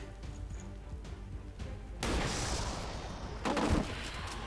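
A sniper rifle firing in the XCOM 2 video game: one heavy, booming shot with a long rumbling tail, followed moments later by a second thud, loud and near over a low game ambience, with no talking.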